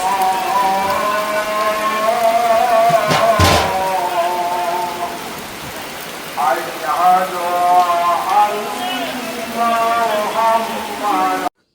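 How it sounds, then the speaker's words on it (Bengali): Heavy rain pours steadily on surfaces around a house, a dense continuous patter with a sharp knock partway through, while people talk over it. "তো দেখতেই পাচ্ছেন অঝোরে বৃষ্টি পড়ছে"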